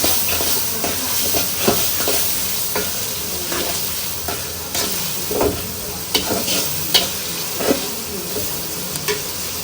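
Ginger-garlic spice paste is stir-fried for a meat curry in a home kitchen, sizzling and hissing loudly and continuously while a spoon scrapes and stirs the pan in repeated, uneven strokes.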